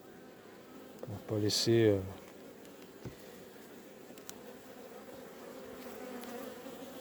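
An aggressive honeybee colony buzzes in a low, continuous hum near the hive, while someone speaks briefly over it near the start.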